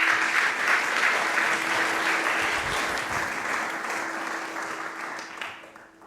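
An audience applauds to welcome a meditation teacher at a mindfulness session, sustained steady clapping from a full room that holds even for several seconds and then tapers off near the end.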